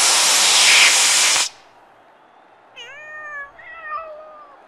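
Cartoon kittens give a long loud hiss, then after a short pause two clear rising meows, close and alone.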